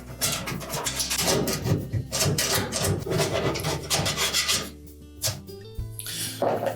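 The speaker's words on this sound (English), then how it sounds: "once we've scraped off as much of that old seal and adhesive as we can with a putty knife" A stiff putty knife scrapes old seal and adhesive off a Whirlpool dryer, giving steady close rasping strokes that repeat throughout with short pauses.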